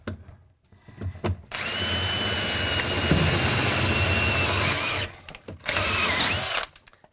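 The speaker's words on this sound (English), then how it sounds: "And I'm going to drill this hole." A power drill bores a hole through a wall stud during bathroom electrical wiring, a loud, steady grinding whine for several seconds that briefly cuts out, then resumes in a second shorter burst.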